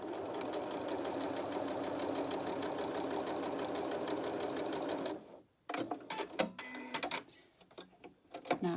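A sewing machine quilts patchwork blocks quilt-as-you-go style, running steadily and loud for about five seconds before stopping, followed by brief rustling and handling of the fabric.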